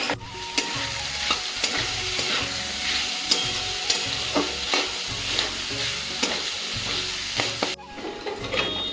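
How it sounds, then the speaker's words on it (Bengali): Whole cumin seeds and dried red chilies tempering in hot oil inside a pressure cooker, a close steady sizzle broken by repeated scraping stirs and light metal clinks at an uneven rhythm, with no talk. "আর এদিকে আমি কুকারের মধ্যে গোটা জিরে, শুকনো লঙ্কা ফোড়ন দিয়ে দিচ্ছি"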